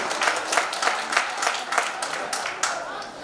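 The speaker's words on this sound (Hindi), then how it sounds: "जितने लोग हैं और ताली बजाएं तो ऐसा लगे कि पूरा पांडाल बजा रहा है" An audience at a poetry gathering of visually impaired poets in a large tent pavilion claps loudly, a dense burst of hands with rhythmic surges across a few seconds.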